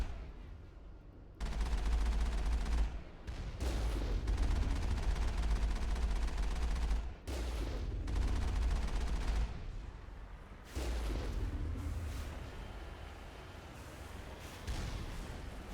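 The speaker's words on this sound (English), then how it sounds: "they're shooting at me" Enemies in the Mass Effect video game open fire in dense, sustained bursts that come in loud blocks broken by brief pauses, with heavy low-end thumps beneath the rapid shots and no speech.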